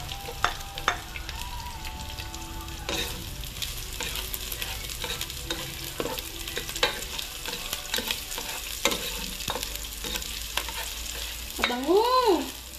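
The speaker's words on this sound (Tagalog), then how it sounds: "Hintayin lang natin na mag-golden brown ang ating bawang." Garlic frying and sizzling in a pan while being stirred, with a steady crackle broken by repeated scrapes and clacks of the utensil, and a brief rising-falling whine near the end.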